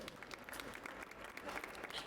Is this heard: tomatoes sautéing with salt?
no